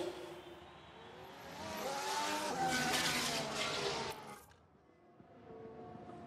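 Formula 1 cars on old tyres leave the pits in a Singapore qualifying session of F1 Manager 22, an engine whine that swells, peaks, then cuts off abruptly before a quieter engine note returns, with no talk over it.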